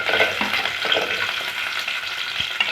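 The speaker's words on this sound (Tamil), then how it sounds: "இப்போ நம்ம எடுத்து வச்ச சின்ன வெங்காயம் சேர்த்துப்போம்." Small shallots dropped into hot oil for peanut chutney, crackling in a dense, continuous sizzle with a few soft stirring knocks, close and fairly loud.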